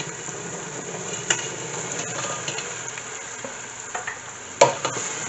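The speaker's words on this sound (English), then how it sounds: "Just add our beans and give it a good stir." Chickpeas are stirred into a pot of sizzling seasoning with bouillon powder for Guyanese boiled chana, giving a soft, steady frying hiss broken by a few brief scraping clinks of a spoon against the pot.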